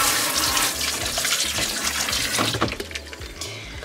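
Hot tap water runs steadily over frozen fruit in a bowl at an RV kitchen sink, a continuous close splashing stream with shifting tone as the fruit is rinsed.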